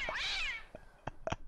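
A cartoon cat in the puzzle game Contraption Maker lets out a long, bending meow, then several short, clipped mews in quick succession, fairly quiet and without talk.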